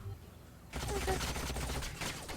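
Sci-fi gunfire from the strategy game Age of Wonders: Planetfall bursts in as a dense, sustained volley of rapid shots after a quiet moment, loud and continuous for well over a second.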